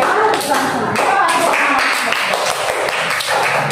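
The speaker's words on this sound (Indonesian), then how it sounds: "Tepuk tangan setengah lah ya kan" Students in a classroom clap during a lesson, with brisk, close, fairly loud hand claps running through the short clip. Voices mix in underneath.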